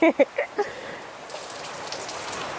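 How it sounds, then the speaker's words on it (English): Rain falls outdoors as a steady, soft patter and hiss, faint and even, following a brief burst of voice at the start. "The rain is falling."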